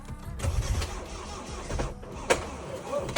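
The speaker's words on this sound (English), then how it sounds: "What you heard was a camshaft bolt snapping off the sprocket." A car engine turns over and a camshaft bolt snaps off its sprocket from misalignment, a cranking whir broken by a sharp metallic crack near the end.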